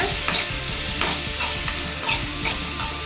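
Tomatoes sautéed in a pan for a drumstick thokku: a loud, steady sizzle close by, broken by rhythmic scraping strokes of a stirring spoon about every half second, with no talking.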